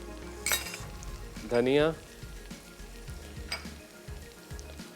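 Turmeric, salt, crushed red chilli, coriander and cumin roasting in a hot pan for a desi chicken dish, with a low steady sizzle under brief speech and a few soft stirring scrapes.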